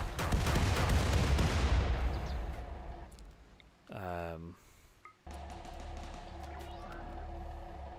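Gun turret fire in the video game Rimworld: a dense burst of loud shots up front, then a short rising mechanical whir and a steadier, quieter stretch of game sounds, with someone talking over it.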